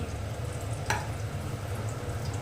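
Onions fry for handi mutton with a steady, close sizzle in a hot pan, one brief scrape or stir cutting through the hiss.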